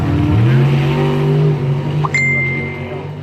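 Drag racing at a test and tune event, including an El Camino: a loud engine roars and rises in pitch as a car runs down the strip, with a short high ding near the end.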